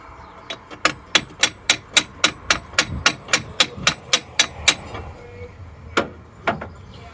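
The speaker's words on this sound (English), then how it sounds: "This calls for some more hammering." A hammer works at a stuck bottom coolant hose on a Mazda MX-5, delivering a quick, even run of about fifteen sharp metallic strikes. After a short pause come two more separate blows, all close and loud.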